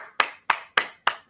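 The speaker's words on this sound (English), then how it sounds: "I'll give him his applause." Four slow, evenly spaced hand claps, crisp and close, each with a short decay and quiet gaps between them, with no voices.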